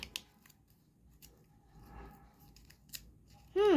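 Scissors snip and cut at a toy box package in a few brief, crisp strokes at close range, with a short voiced sound at the very end.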